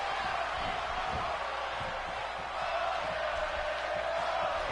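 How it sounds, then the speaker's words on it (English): A wrestling video game crowd in an ECW arena roars in a steady, loud wash of cheering and chanting, with faint thuds beneath. "Crowd now singing Ole."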